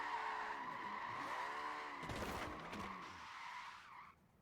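Tire skid and squeal from a car drifting backwards in the racing game Forza Horizon 4, a sustained screech with shifting pitch and a burst of impact-like noise midway, loud and close with engine sound underneath, fading at the end.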